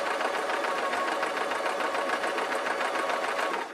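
A sewing machine runs steadily while stitching gossamer fabric for a pleated shirt, a continuous close whirring buzz with fast needle rhythm that holds at even loudness throughout.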